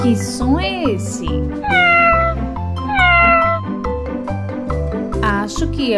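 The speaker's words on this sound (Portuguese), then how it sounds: "é o gato." Repeated loud cat meows, some drawn out like a caterwaul, ring out over a bouncy children's background melody in an animal-sounds guessing game.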